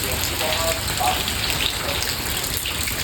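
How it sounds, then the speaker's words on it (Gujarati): Rain keeps falling in a steady, close hiss, with faint, brief voices half-buried beneath it. "હજી છે ને વરસાદ ચાલુ છે"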